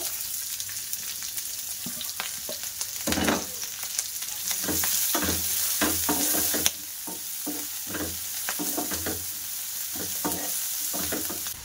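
Chopped onion and green chili fry in hot oil for chicken puli snacks, a steady sizzle broken by repeated scraping stirs of a spoon in the pan, with no talk.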